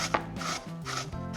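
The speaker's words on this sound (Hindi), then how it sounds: "तो सबसे पहले जुकीनी को मैं कद्दूकस कर लेती हूँ और बहुत फाइन ग्रेटर से नहीं करेंगे हम।" Zucchini is grated on a coarse, not very fine grater in a kitchen, giving a run of rhythmic rasping strokes, close and fairly loud, with a brief knock at the start.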